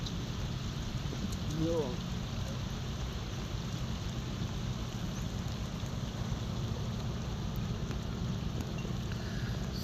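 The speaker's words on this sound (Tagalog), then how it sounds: "medyo lumalakas na yung ambon, dinaambon to, ulan na to" Steady rain falls outdoors in the Philippines as a storm approaches, a dense continuous hiss of drops on surfaces throughout, with a brief voice heard near the start.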